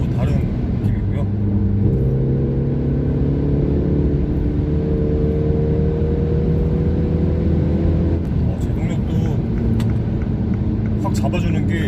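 A MINI Countryman S ALL4 in sport mode hums along, its engine holding steady tones that climb once, then settle, under continuous in-car road rumble.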